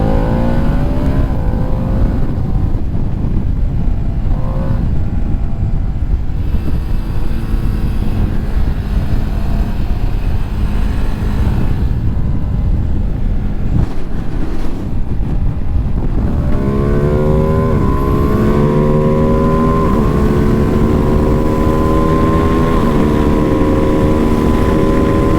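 A 2025 Ducati Panigale V2S sport motorcycle accelerates hard, its engine note climbing through the revs in loud, continuous pulls, easing briefly before surging again with a rising whine.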